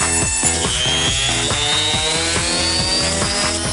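A high-pitched air turbine whine spins steadily at very high speed, loud and continuous, with a rapid rhythmic pulsing underneath.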